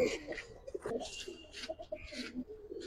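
Giribaz pigeons, including a silver cobra-type bird, coo repeatedly at close range in soft, throaty bursts, with faint background voices.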